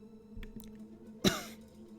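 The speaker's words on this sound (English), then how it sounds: "I just coughed right into my microphone" A single sharp cough bursts close into a microphone during a Battle Brothers game stream, loud and brief over a low steady hum, with a faint thump just before it.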